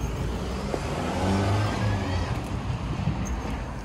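Road traffic passing outside a house beside a commercial building, a steady broadband rumble of cars that swells in the middle and stays fairly loud throughout, with no talking.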